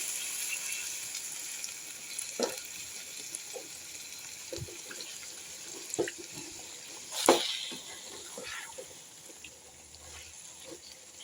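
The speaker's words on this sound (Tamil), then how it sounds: "நம்ம தண்ணி சேர்த்துக்கலாம்" Water is poured into a chicken curry cooking in a pan, a steady rushing hiss with sizzling and a few sharp splashes and clatters, up close and without talk.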